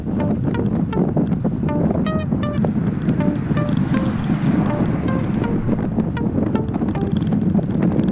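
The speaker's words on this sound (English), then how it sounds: "we're riding into the wind and it's swirling around" A steady, loud roar of wind buffets the microphone as a bicycle group ride pushes into a swirling headwind, with faint tonal whines threading through the rush.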